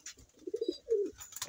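Pigeons coo in a fancier's loft, with two low, rounded calls close by, a short rolling phrase followed by a longer one, over faint background hiss.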